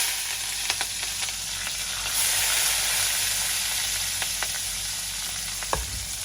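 Mustard seeds, cumin, onion and green chilli frying in hot oil give a steady, close sizzle, with a few sharp pops and crackles scattered throughout and no talking.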